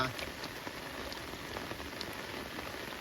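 Heavy monsoon rain pours steadily and densely beside a swollen river, a constant hiss with scattered drops striking nearby surfaces.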